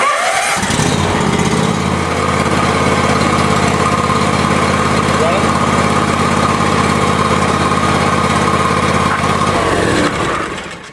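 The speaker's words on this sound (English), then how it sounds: "To start off, we're going to start our engine. We're going to let it run for 5 minutes." A small lawn mower engine starts up and settles into a steady, loud, high-pitched idle with a constant buzzing drone that runs on for several seconds before cutting off, with no talking.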